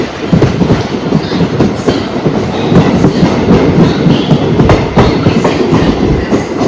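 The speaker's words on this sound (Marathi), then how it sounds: "वापी वलसाड मुंबई ट्रेन लागलेली आहे" A Vapi–Valsad–Mumbai passenger train at Vapi station gives a loud, steady rumble of rolling railcars with rhythmic clickety-clack of wheels over rail joints, heard close and continuous without voices.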